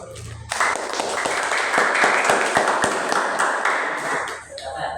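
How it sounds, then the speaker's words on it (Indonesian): Applause from a gathered audience at a ceremony, a dense burst of many hands clapping that swells quickly, holds steady and loud for about four seconds, then tapers off near the end. "kita coba aja kita berikan aplaus"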